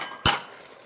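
A utensil scrapes once across a mixing bowl holding egg-white batter: a single short, crisp scrape-clink, close and fairly loud, then quiet.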